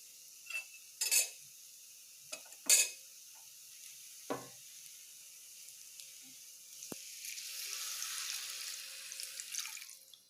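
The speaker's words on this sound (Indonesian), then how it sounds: "Setelah itu kita tambahkan air kaldu." Broth pours into a pot in a soft, steady stream lasting several seconds, following a few clinks and knocks of kitchen utensils, moderately close with no talking.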